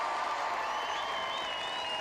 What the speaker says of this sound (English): Little cheers for him as he goes